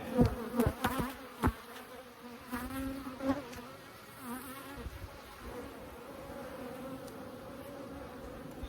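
A steady, busy hum of many honeybees buzzing close by on a brood frame during a Layens hive inspection, with a few handling knocks and thumps early on, no talking.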